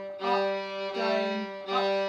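Violin played in a down, up, down bowing pattern, three sustained bowed notes at steady volume with smooth changes between strokes, close and alone.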